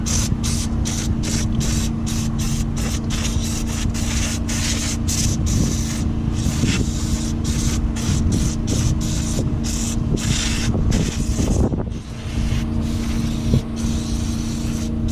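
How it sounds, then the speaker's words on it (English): Aerosol brake cleaner sprayed in long continuous hissing bursts onto car parts during a 2001 Cadillac DeVille radiator job, with a steady low engine-like hum beneath and a short pause near the end. "I bought some more brake clean to try to clean"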